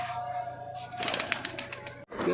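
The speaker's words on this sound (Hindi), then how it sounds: "गोलू भाई के एक ठो कबूतर उड़ गया है देखी जा ये उड़ता आकाश में।" Pigeon wings flap and clatter briefly amid soft bird sounds outdoors, with a sudden gap near the end before noise resumes.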